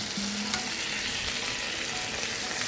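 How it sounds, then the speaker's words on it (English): Butter and white flour frying together in a pan for white sauce, a loud, dense, continuous sizzle with stirring close by and no voices. "I will melt some butter in the pan. White flour in it."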